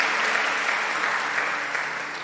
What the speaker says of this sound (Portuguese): Aplauda o nome de Jesus nessa noite.